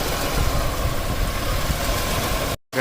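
1989 Buick Reatta 3.8L V6 engine at a rough, loping idle, a close, steady low rumble with a slight uneven pulse, cutting off briefly near the end.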